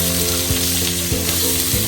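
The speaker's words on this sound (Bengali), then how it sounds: "এবার দেওয়া হলো লঙ্কা ফোড়ন। এইবার কিন্তু হালকা নাড়াচাড়া করে আলুগুলোকে ছেড়ে দেওয়া হবে।" Chili tempering sizzling in hot oil as potatoes are stirred in a home kitchen: a loud, continuous close-up sizzle with a steady background hum, broken by a few soft scraping stirs.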